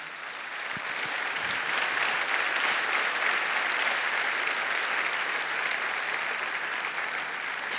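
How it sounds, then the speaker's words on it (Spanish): A church congregation applauds steadily and loudly for the full stretch at Sunday service, a dense, even wash of clapping with no voices rising above it. "Si aplaudir, apláudale al Señor."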